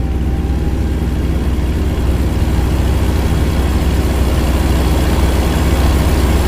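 Loud, steady low diesel rumble of a heavy truck in American Truck Simulator, cab windows up, pulling a load of 37,000 pounds of yogurt; continuous droning engine with no talk over it.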